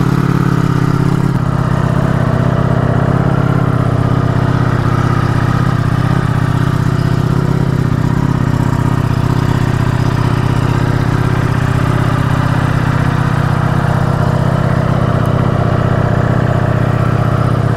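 A Ducati V4S motorcycle engine idling while warming up, a steady low, loud burble held evenly and continuously with no revving or talk.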